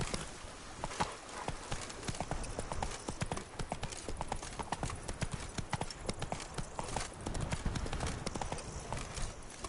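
The horse Roach gallops in The Witcher 3: Wild Hunt, a fast, continuous, close clatter of hoofbeats in an uneven rhythm, with a faint voice briefly heard underneath.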